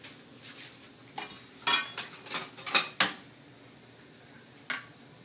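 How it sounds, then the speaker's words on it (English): A handheld flour sifter is worked over a big bowl of wet banana nut bread batter, giving scattered metallic clinks and rattling bursts that cluster in the middle, close and fairly quiet, with no one talking. "I'm going to introduce the flour gradually with the sifter into the wet ingredients"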